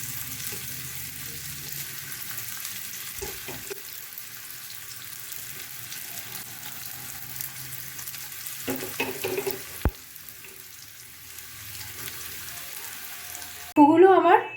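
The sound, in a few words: tofu pieces frying in hot oil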